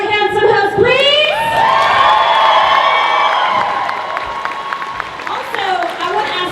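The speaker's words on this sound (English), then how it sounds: "can we please give another round of applause for our lovely, lovely, handsome host" Audience at the NDK 2017 opening ceremony breaks into loud, sustained applause with cheering and whoops, a dense crowd roar with shouted voices that eases slightly near the end.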